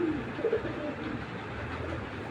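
Pet pigeons, a pair of Doraemon-breed birds kept by a fancier, coo softly a couple of times, close by, over a steady background hum with no talking.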